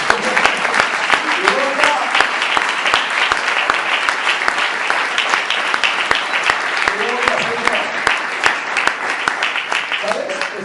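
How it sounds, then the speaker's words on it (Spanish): A church congregation applauds with dense, continuous clapping. Sharp individual claps stand out, and scattered voices call out underneath throughout. "Denle un aplauso a Jesús."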